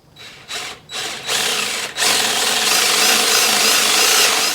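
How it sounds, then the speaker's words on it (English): A power drill bores a pilot hole for a lag bolt during a chicken coop build, starting with a few short stuttering bursts before settling into a loud, steady whir that runs to the end. "the first thing we're gonna do is drill a pilot hole right here to put in our lag bolt or anchor bolt"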